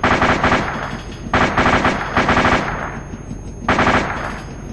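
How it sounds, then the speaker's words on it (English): A Bradley fighting vehicle fires its gun in the video game ARMA 2. Three loud, close bursts of rapid automatic fire are separated by short pauses. "Open fire."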